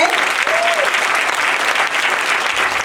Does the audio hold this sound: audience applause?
yes